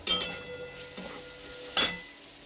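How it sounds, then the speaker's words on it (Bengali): Turmeric, salt, red chilli powder and cumin powder sautéing in a pan, heard as a few sharp scraping stirs and clinks over a faint sizzle, close and alone without speech. "এটা ভালো করে একটুখানি কষে নেবো মশলাটা"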